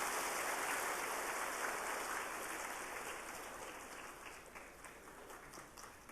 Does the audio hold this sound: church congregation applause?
yes